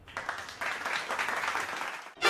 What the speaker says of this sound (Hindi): तो मेरे लिए गाइस हो जाए अभी तालियां।